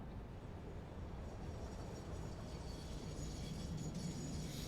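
A freight train in a factory-building video game gives a steady, continuous rumble of rolling wagons, with a faint higher squeal creeping in near the end. It sounds fairly close, with no talking.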